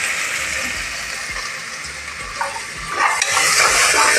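Crushed ginger, garlic and green chilli sizzle as they are stirred in a pan; a softer frying hiss with a few light scrapes gives way to a louder, brighter surge of sizzling near the end.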